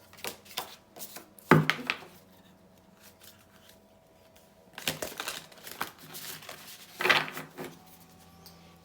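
Oracle cards are shuffled by hand in bursts, quiet riffling and slapping of the deck with brief pauses between the louder rustles, close and fairly faint.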